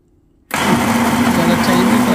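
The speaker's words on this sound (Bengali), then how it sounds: "আমি ছোটো ছোটো টুকরো করে এটাকে মিক্সার গ্রাইন্ডারে ঘুরিয়ে নিলাম।" A mixer grinder blends small pineapple pieces with water, its motor cutting in abruptly after a half-second of silence and holding a loud, steady whirring grind to the end.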